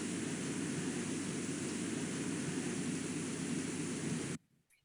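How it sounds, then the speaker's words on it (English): Steady low broadband rumble of wind-driven breaking waves in the ocean, heard underwater as a continuous dense roar that holds evenly for about four seconds and then cuts off abruptly to near silence. "the wind creates noise by generating waves, and then when the waves break, they make noise"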